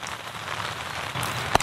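Steady rain falls on a winter day with snow, where birds are being fed. The hiss is dense and unbroken throughout, with a brief sharp tap near the end.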